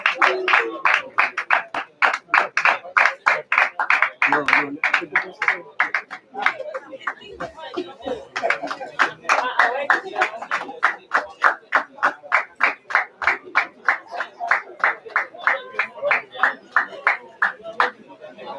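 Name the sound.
applause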